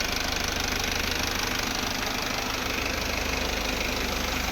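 A diesel vehicle's engine idles in good running condition, a steady low rumble with a rapid, even knocking pulse, close and continuous with no talk.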